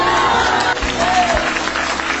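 Church congregation applauding at an evangelical testimony service, a steady, dense wash of clapping filling the room with voices mixed in underneath.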